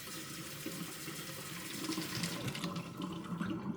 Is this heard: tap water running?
yes